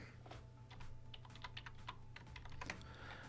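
Steady, close typing on a computer keyboard while a Python print command is entered in the IDLE editor, with quick irregular key clicks and no talk.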